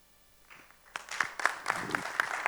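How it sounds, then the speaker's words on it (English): Applause from an audience after a business pitch at a D2C industry event, scattered claps building from quiet into a steady, moderately loud patter of hands. "I think the claps tell us how he's solving a real problem"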